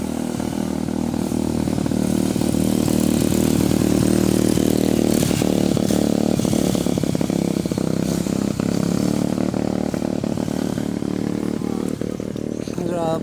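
A motorcycle engine runs steadily and loud close by, a continuous droning rumble with occasional revving, as riders head home on a road ride; voices talk faintly over the engine noise.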